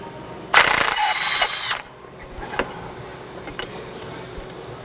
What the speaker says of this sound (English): We've got an impact. We'll go ahead and remove the bolt now.